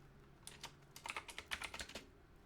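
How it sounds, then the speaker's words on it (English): ASMR typing on a computer keyboard, a quick burst of soft, close key clicks in an uneven rhythm, faint and intimate, with no talking over it. "Alright, typing trigger it is."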